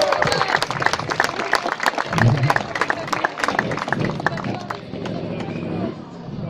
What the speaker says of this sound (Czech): Tak ji zatleskejte